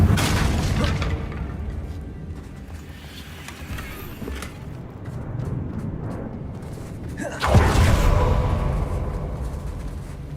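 A Confringo spell blast in Hogwarts Legacy, with rumbling, crackling game effects throughout and a sharp burst near the end over a dense ambient bed.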